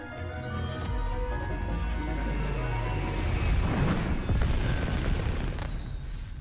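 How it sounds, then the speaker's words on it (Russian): Fireworks bursting in the Hogwarts Legacy video game, a dense wash of booming, crackling explosions layered over steady game music, loud and continuous throughout with a few heavier swells near the end. "Фейерверк."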